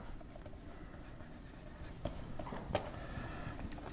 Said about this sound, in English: Even the tongue, as I draw the tongue in.